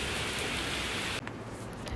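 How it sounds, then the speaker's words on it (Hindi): Steady rain falls as a dense, even hiss that fills the space, then softens abruptly into a quieter patter with occasional louder drops; no voices. "बारिश हो रही थी।"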